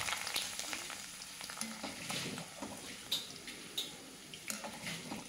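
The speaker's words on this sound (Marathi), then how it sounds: "तेलामध्ये छान असे हे फ्राईम्स आपण तळून घेऊया." Fryums frying in hot oil, a soft, steady sizzle and crackle with occasional small pops, fairly quiet and close, with no voices.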